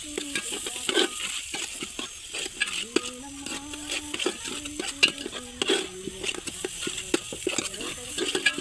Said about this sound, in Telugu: ఉల్లిపాయ ముక్కలు వేగిపోయినాయి.